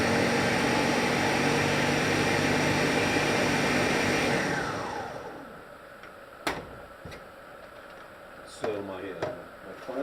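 A kitchen blender whirs loudly while mixing a veggie smoothie, then winds down and stops about halfway through, followed by a few clunks and rattles of handling.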